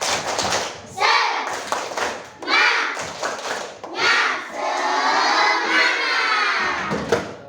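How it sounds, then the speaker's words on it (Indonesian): A classroom of students doing a rhythmic group spirit clap, loud bursts of clapping with shouted chanting and thumping in repeated waves. "Tepuk semangat"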